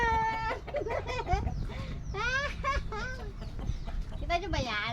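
Several chickens cluck and squawk close by, with rising and falling calls overlapping one another in a busy, continuous chorus.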